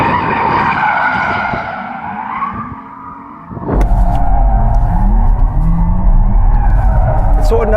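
A 2022 Porsche Taycan GTS, a four-wheel-drive electric car, spins with loud, sustained tire squeal and skidding, close up, with a brief pause before the skid resumes; a person speaks over it.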